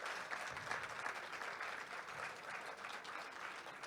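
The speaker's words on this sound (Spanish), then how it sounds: "queremos darle un fuerte aplauso" Audience applause for a lecturer at a talk in Coyoacán, a steady, even patter of many hands clapping together, heard faintly and at a distance for the whole stretch with no speech.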